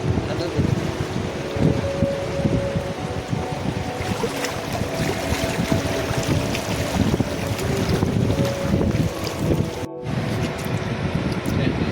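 Sea waves wash steadily onto a beach where turtle hatchlings are released, a continuous broad roar heavily buffeted by wind on the microphone, with faint voices mixed in.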